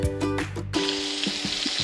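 Sausage patties frying in a pan, a steady crackling sizzle that runs throughout, close and moderately loud, with a few soft clicks over it.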